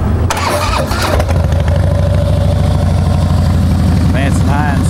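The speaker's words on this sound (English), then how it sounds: "I'll fire it off and let you listen to it." A Harley-Davidson Heritage Softail Classic engine with Vance and Hines exhaust cranks and catches, then settles into a steady, loud rumbling idle with a regular low pulse.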